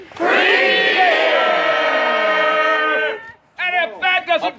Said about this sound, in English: on the count of three, everyone yell, free beer